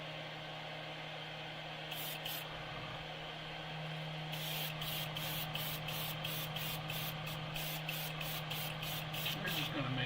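Short hissing bursts from an airbrush or spray gun coat a fishing bait in rapid rhythmic pulses over a steady low compressor hum, with a longer spray early on.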